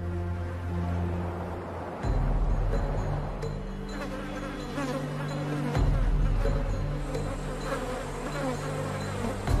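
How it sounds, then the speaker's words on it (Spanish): Flies buzz steadily around a sick, thin lioness with open wounds on the shore of Lake Magadi in Ngorongoro, a close, dense droning hum that swells and shifts as insects move, with no voices. "Las moscas se agrupan en las heridas abiertas."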